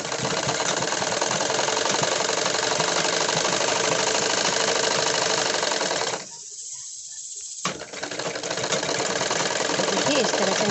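A sewing machine stitches a woolen kurti with a steady, loud mechanical whir that runs continuously, drops out briefly for about a second and a half, then resumes at the same pace.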